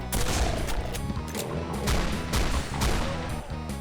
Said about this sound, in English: It's called a shotgun because it's the gun you're going to get shot with.